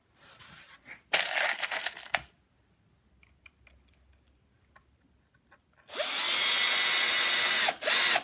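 A power drill drives a screw into wood while a box is assembled, with brief drilling bursts early and then a loud, sustained run near the end, separated by a quiet pause.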